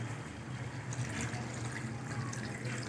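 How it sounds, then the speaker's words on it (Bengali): Water poured into chicken curry being cooked down in a pan, a steady close liquid rush and trickle with sizzling underneath, continuous for about three seconds with no talk. "এবার জল দিয়ে দেব।"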